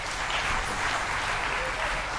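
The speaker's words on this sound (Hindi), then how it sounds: "नरेश के लिए तालियां" An audience at a Ram Katha gathering applauds the musicians with dense, steady clapping that holds at an even level throughout, with no break.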